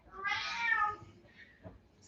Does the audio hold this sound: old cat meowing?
yes